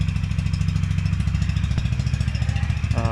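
A Honda CB 350 motorcycle engine idling close by, a loud, steady low thumping rumble that runs unbroken throughout, with a brief faint clatter near the end.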